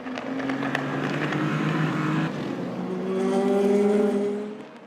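LMP3 prototype race cars dueling closely at Imola, engines droning loud and continuous with a rising pitch sweep as one car closes in near the end.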